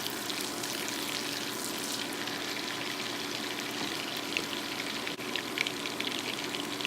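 Garlic and ginger sizzle steadily in melted butter in a pan, a close, even frying hiss with scattered small pops throughout and no talking.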